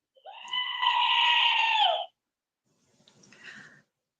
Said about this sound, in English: Warning, screaming goat.